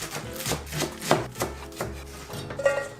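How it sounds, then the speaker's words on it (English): Knife chopping fresh spinach on a cutting board: a run of soft, irregular thuds and cuts, close and fairly quiet, with no talking. "Okay, I'm gonna start with some spinach. I'm just gonna cut it so it mixes in easier."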